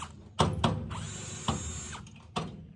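An impact driver on its lowest setting tightens bolts on a farm, firing several short sharp bursts separated by pauses, with a steady motor whine in between.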